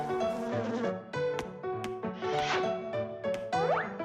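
A cartoon bee buzzes in a cartoon for kids, a bright droning hum that wavers and swoops over steady musical tones, with a few plucky accents and a rising glide near the end.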